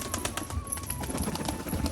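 Pigeons kept for fancy breeding coo steadily in a loft or yard, a dense continuous murmur of low throaty calls close by with no pauses.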